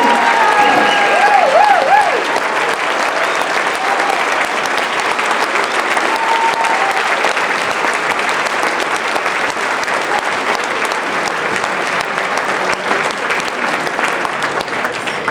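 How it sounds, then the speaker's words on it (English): A large audience at an awards dinner claps steadily and loudly for a long stretch, the applause holding an even, dense roar throughout. "Give them a big round of applause."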